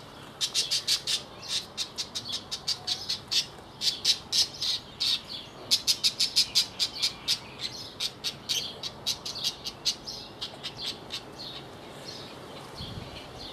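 A pet budgie squawks over and over in sharp, shrill bursts, close by, rising into rapid runs and then thinning out toward the end, with no one speaking.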